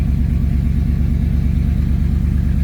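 A heavily modified 2008 Ford F150 King Ranch with a 5.4 Triton V8 rumbles through its exhaust, a loud, steady, deep pulsing drone heard up close with no other sounds.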